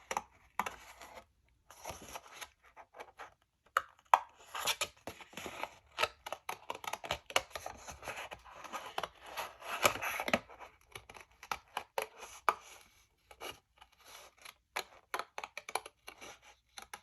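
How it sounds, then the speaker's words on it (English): Scissors trim paper for a flip album in a quiet room, a long run of close, faint snipping cuts coming in irregular bursts with short pauses between. "Go ahead and trim off the part that we aren't using."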